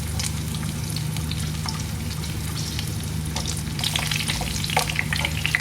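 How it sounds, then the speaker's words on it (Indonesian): Galangal, ginger and garlic fry in a little oil for a crispy tempeh floss, giving a loud, steady sizzle and crackle that runs without a break from start to finish, with no voices. "Sekarang saya goreng bumbu-bumbunya yang lain."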